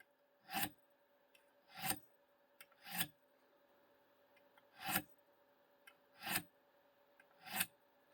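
A VPA three-blade fixed broadhead edge stroked on a sharpener, six crisp rasping swipes spaced about a second apart, close and clear against near silence, no voice.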